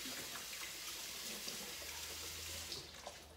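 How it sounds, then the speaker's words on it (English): Tap water runs steadily into a sink while hands are washed, a continuous close hissing splash with faint shifts as the hands move through the stream; no talking. "So I'm gonna wash my hands once again."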